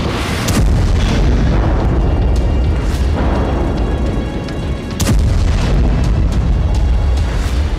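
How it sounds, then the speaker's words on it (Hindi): Heavy booming explosions demolishing buildings in Gaza during wartime, with deep rumbling roars, sharp blasts near the start and around five seconds, loud and continuous. "हमास के ठिकानों को विस्फोट से उड़ाया जा रहा है।"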